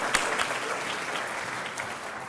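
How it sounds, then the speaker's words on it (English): Applause from a Rotary Club audience for the Huskies, the University of Washington team, a steady dense patter of many hands clapping at moderate distance throughout, with no voices over it. "we get a little Husky applause on that"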